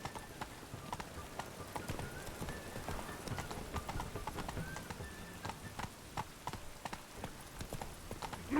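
Horse hooves clip-clop in steady galloping rhythm in The Witcher 3 video game, close and continuous, with faint game ambience and brief voice lines underneath.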